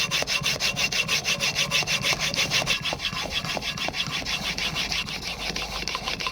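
A steel chisel bevel is stroked back and forth over a sharpening stone in a woodworking shop. It makes a fast, steady run of close, gritty rasping strokes with no talking.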